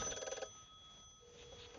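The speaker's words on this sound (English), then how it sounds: "if I dial 208, it's my test phone in here. Don't know if you guys can hear that, but I can hear it. It's just a rotary phone." A rotary test phone on an Avaya IP Office line rings once in a short burst of bright bell tone, then rings off into a quieter hum, heard alone without talk.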